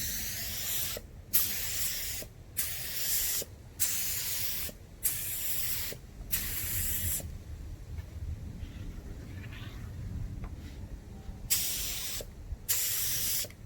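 Bursts of aerosol spray paint hiss onto Mandalorian Beskar costume armor in several close, loud passes of about a second each, separated by brief pauses, with a longer quiet gap near the middle.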